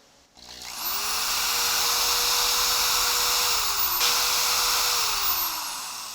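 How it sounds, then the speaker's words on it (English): A power drill bores through a guitar neck held in a jig, starting abruptly and holding a loud, steady high-pitched whine with a shifting tone, a brief dip in pitch midway, then gradually easing off at the end. "Oh, and you just drill through there."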